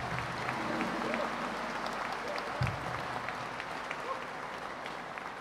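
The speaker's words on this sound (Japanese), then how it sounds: "素敵なソロを吹いてくれた高橋総長にもう一度大きな拍手をお願いいたします。" A concert audience applauds a band after a solo, a dense steady wash of clapping throughout with faint voices underneath.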